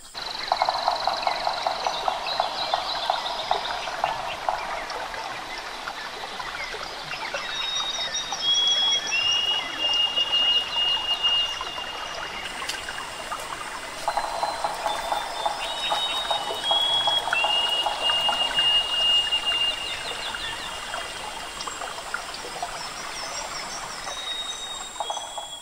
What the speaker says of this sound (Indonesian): Ada sungai kecil di dalamnya.